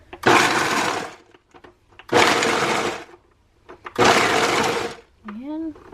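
Countertop blender running on its chop setting for cheesecake cups, three loud pulses of about a second and a half each separated by short pauses, followed by a brief voice.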